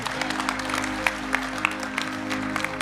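An audience at a devotional bhajan performance claps in a steady rhythm over a sustained droning instrumental tone. The individual claps are moderately loud and blend into the accompaniment.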